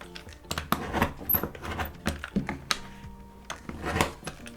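Scissors snip through two stacked sheets of felt in a series of crisp, close cuts, each a short dull crunch with a light click of the blades, repeated in an uneven rhythm.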